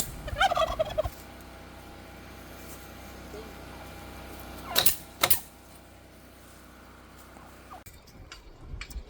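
Turkeys gobble in a coop with a loud, rattling burst at the start, then two short sharp calls midway, with quiet stretches between.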